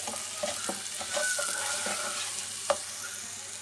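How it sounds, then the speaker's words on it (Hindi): Dry spices and tomato paste sizzle steadily in a frying pan for a shakshuka-style masala egg dish, a continuous close crackle with the scrape of stirring and one sharper tap partway through. "इनको हम 2 मिनट के लिए भूनेंगे।"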